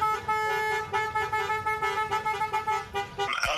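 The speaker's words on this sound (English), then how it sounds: "I was really confused when they were honking." Car horns blare together in a drive-by graduation parade in Sharyland, a loud sustained chord of honks pulsing rhythmically for several seconds before breaking off.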